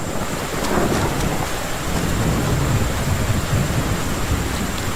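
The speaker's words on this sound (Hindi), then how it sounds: "फिर एकाएक ओले पड़ने शुरू हो गए, बड़े बड़े ओले" Heavy hail comes down with rolling thunder in an animated village story. A dense, loud roar of pelting ice and rain fills the whole stretch, and low rumbles swell beneath it.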